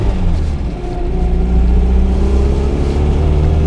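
An FSO Polonez car driving along, its steady engine drone and low road rumble filling the cabin at a constant, fairly loud level with no talk.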